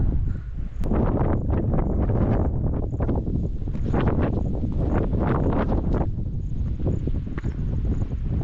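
Strong wind roars across a hilltop during a climb to Tandulwadi Fort, a steady loud buffeting against the microphone with gusty rustling bursts throughout.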